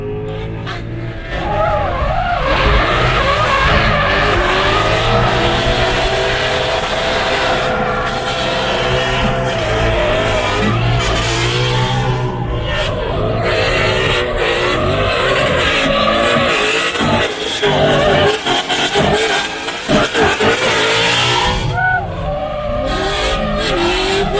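An RTR Spec Mustang driven by Chelsea Denofa drifts with long, loud tire squeals over a roaring, revving engine, heard up close from inside the car during a ride-along, with no talking.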